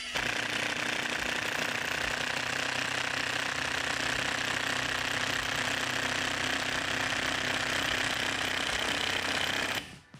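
A Procraft Industrial cordless impact driver runs on first speed, driving a 100 mm long, 6 mm yellow screw, its steady hammering whir constant and loud for about ten seconds before cutting off.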